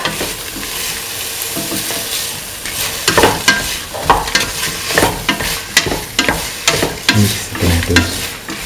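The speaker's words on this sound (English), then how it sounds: "Mix the tomatoes and salt to get a best mix." Tomato pieces and salt being stirred in a frying pan for a green peas and cauliflower stew, a steady soft sizzle broken by repeated scraping strokes of the spoon, close and fairly loud.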